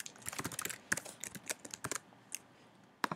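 Quiet, irregular clicking of computer keys in short bursts, with a pause before a final keystroke; no one speaks.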